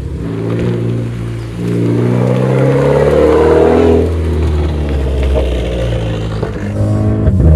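Renault Clio 4 RS Trophy on a road test, its engine droning loud and close from inside the cabin, revs climbing and easing through several shifts.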